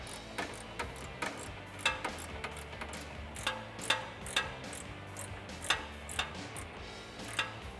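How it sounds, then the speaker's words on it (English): A ratcheting wrench tightens a bolt on a 2005-2014 Mustang rear shock install, giving quiet, evenly spaced clicks in a steady rhythm at close range with no speech. "we're gonna finish it off with our ratcheting wrench"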